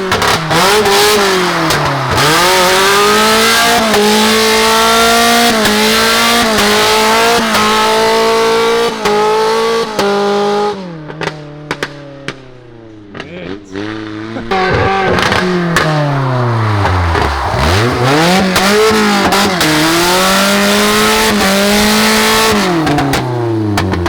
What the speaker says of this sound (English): driving the Honda around in the most obnoxious manner possible, I don't understand how some people genuinely like their straight pipe